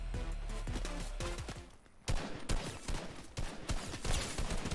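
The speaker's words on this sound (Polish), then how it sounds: "tam z daleka jest chłop, co strzela do nas" Bursts of gunfire in Fortnite from a distant player, scattered sharp shots arriving in clusters after a quieter stretch, with no talk over them.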